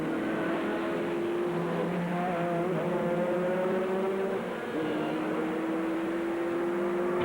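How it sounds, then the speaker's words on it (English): A GT race car in the FIA GT series accelerates flat out down Monza's long front straight out of Parabolica, its loud engine drone rising steadily through the gears with brief dips at each upshift, close and continuous. "Coming out onto the front straight from Parabolica, endless front straight, all the way up through the gearbox, flat out heading towards the chicane."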